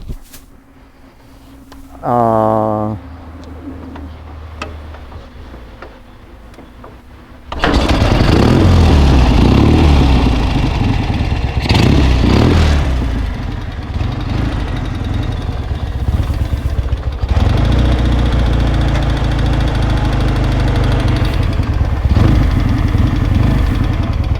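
A 1973 Chang Jiang motorcycle engine cranks briefly, then catches and roars to a loud, close, steady idle with slight revving and throbbing, continuing for the rest of the clip.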